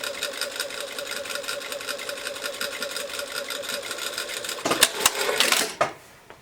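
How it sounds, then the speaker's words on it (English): A sewing machine runs a steady, fast stitch along a 3/8-inch sleeve seam, loud and close, then clatters and stops abruptly near the end. "we're just going to sew 3/8 of an inch from the top to the bottom"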